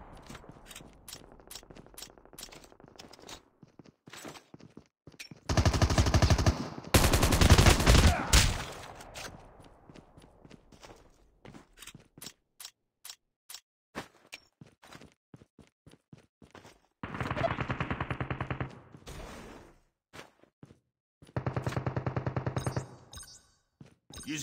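Gunfire bursts in the mobile shooter game Call of Duty Mobile battle royale, several loud automatic volleys separated by quieter mechanical clicks and handling sounds.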